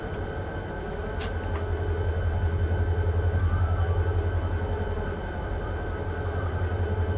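A train in the Run 8 railroad simulator rolls through a track switch, a steady low rumble with rhythmic wheel clatter and a faint brief squeal, continuous and fairly close.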